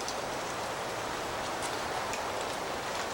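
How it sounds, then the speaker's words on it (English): Wind rushes through park trees ahead of predicted rain, a steady broadband roar of rustling leaves and branches that stays loud and unbroken throughout. "The wind picked up this afternoon here at the park"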